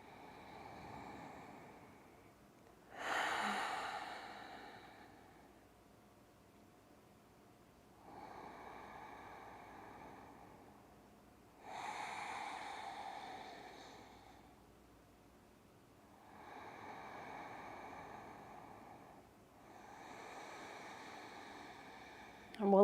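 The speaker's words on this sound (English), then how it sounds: "We'll take 3 breaths here together." A group takes three slow, deep breaths together in a movement class. Soft airy inhales and stronger whooshing exhales repeat every few seconds against quiet background.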